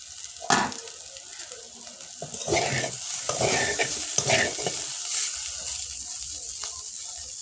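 Cauliflower and potato pieces being stir-fried in a pan, a sizzle that swells into bursts of scraping and tossing as they are turned, then settles back to a softer fry, close and without talk.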